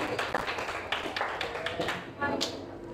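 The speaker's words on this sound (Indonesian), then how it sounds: "untuk Aling dikasih aplaus juga" A classroom gives a student a short round of applause, a quiet scatter of uneven hand claps with a voice speaking nearby.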